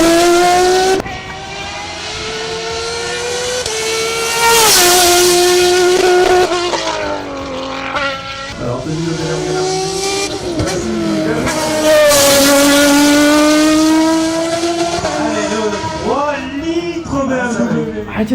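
A BMW race engine revs hard, close and very loud, its pitch climbing and falling in repeated sweeps with sharp snarls and crackles between rising pulls, continuing for almost twenty seconds.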